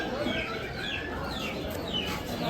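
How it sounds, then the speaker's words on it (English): Chickens, turkeys and ducks at an outdoor animal market in Zimatlán, Oaxaca, clucking and calling in scattered bursts over a busy crowd murmur, fairly faint and continuous. "Aquí es donde venden pollos, guajolotes, conejos, patos."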